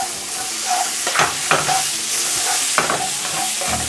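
King prawns in their shells tossed in hot frying oil for salt and chilli prawns, a loud close sizzle broken by several quick scraping tosses of the pan and utensil.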